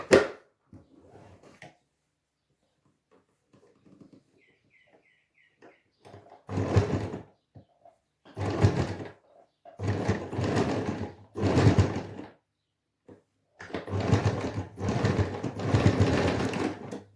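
A sewing machine stitches a pillow in several bursts of steady whirring, each a few seconds long, close by, separated by quiet pauses and small clicks.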